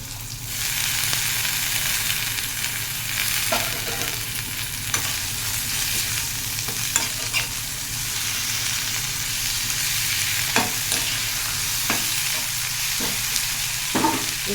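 Ridge gourd peel with sesame seeds frying in oil, a continuous close sizzle with a low steady hum beneath and occasional clicks of stirring, with no talk.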